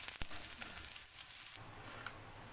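Onion coin paratha frying on a low flame gives a faint, steady sizzle with a sharp tap near the start and a slight shift in texture partway through.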